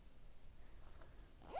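A small zipper pouch matching a knitted pocket shawl is zipped once in a brief, quiet rasp near the end, after faint handling and rustling.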